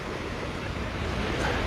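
Waves breaking on Lanikai Beach, Oahu, at sunrise make a continuous near rush of surf, with wind noise over the microphone and no clear talk.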